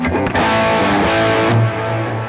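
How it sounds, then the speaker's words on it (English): Overdriven electric guitar through an overdrive pedal with symmetrical quad silicon diodes, thick and saturated tone, with a held chord that rings and shifts to a lower sustained note near the end. "So that's the cyan circuit, which is a symmetrical quad silicone diode."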